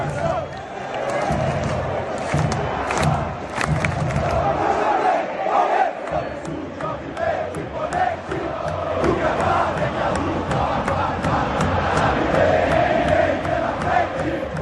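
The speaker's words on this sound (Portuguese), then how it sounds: "bota aí a torcida do Palmeiras aí" Palmeiras football fans chant and roar in a stadium, a loud, continuous mass of voices with rhythmic surges and scattered shouts throughout.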